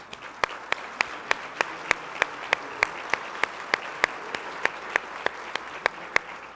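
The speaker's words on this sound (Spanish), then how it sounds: "Un fuerte aplauso, por favor." Audience at a civic meeting clapping to welcome speakers, sharp claps landing together in a steady, even rhythm of about three per second, close and distinct over a quiet room.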